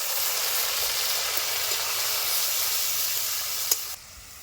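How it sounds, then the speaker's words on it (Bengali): Ground paste of ginger, garlic, green chilli and onion hitting hot oil in a pan, a bright steady sizzle and hiss close by that cuts off sharply near the end. "এবার আমি দিয়ে দিব বাটা মশলা, আদা রসুন কাঁচা লঙ্কা পেঁয়াজ কুচি একসাথে বাটা দিয়ে দিচ্ছি।"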